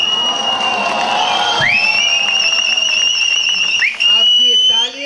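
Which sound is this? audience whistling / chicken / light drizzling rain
audience whistling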